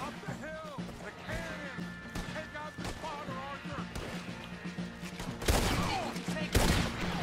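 Repeated booming cannon blasts and crashing impacts in Red Dead Redemption 2, with voices talking between them and a louder burst of explosions near the end.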